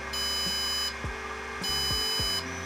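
A Walksnail Avatar VRX video receiver module beeps during a firmware update, giving repeated high electronic tones in steady bursts with pauses, alongside faint low clicks and a constant hum.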